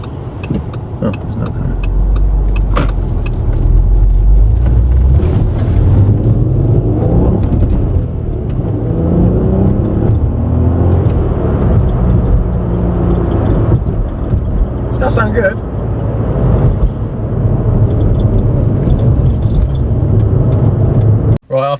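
An Audi A3 3.2 V6 on its standard exhaust revs and pulls hard, with a steady loud engine drone that rises and falls through the gears over road rumble. The run is continuous, with brief voice sounds over it.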